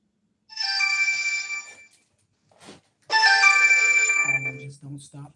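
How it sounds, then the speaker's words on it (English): A phone ringtone plays two loud, close, bright electronic melodic bursts separated by a short pause, with a brief click between them. "Just don't stop ringing."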